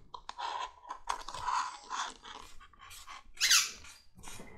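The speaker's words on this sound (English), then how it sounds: "She's got a tennis ball that squeaks when she bites it." Dog biting a squeaky tennis ball in a leather workshop, repeated rapid squeaks mixed with chewing and crunching, close and fairly loud.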